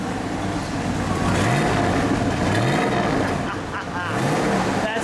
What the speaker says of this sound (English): It runs smooth. Maybe a little exhaust note.